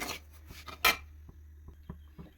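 Semolina (rava) roasting dry in a pan for kesari, stirred with a few soft scraping rubs followed by light, sparse taps of the utensil against the pan over a faint low hum, quiet and close.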